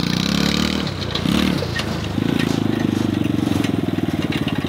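A farm tractor engine runs loud and close, chugging steadily with a brief dip before picking up again into a pulsing, rhythmic drone.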